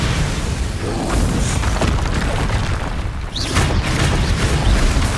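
The Confringo fire spell exploding in the Hogwarts Legacy video game: a loud, dense blast with a sustained rumbling roar and scattered crackles, filling the whole stretch without speech.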